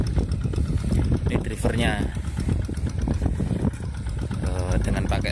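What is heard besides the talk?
Kubota tractor engine running while ploughing a rice field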